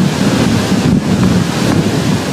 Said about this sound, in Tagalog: Hindi basta sipol ang tunog ng hangin, mistula itong umuungol.